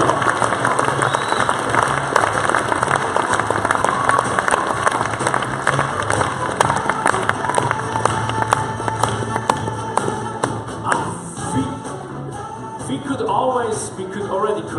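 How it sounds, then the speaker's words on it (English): Audience applause for speakers on stage at a Fuckup Night event in Zurich, a loud, sustained crowd of clapping hands that thins out toward the end, with someone talking over it. "Jeremy Abbott, big round of applause."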